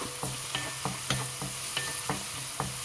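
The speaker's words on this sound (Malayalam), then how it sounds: "വെളിച്ചെണ്ണയിലേക്ക് കരിവേപ്പില ഇട്ട് വെളുത്തുള്ളി ഇട്ട്" Curry leaves and garlic frying in plenty of coconut oil, a steady close sizzle with regular stirring scrapes about every third of a second, no voices.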